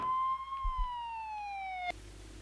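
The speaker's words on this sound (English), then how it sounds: "then he runs off when he hears police sirens" A police siren in a horror film wails with a slowly falling tone for about two seconds, then cuts off abruptly; a couple of low thumps sound early on.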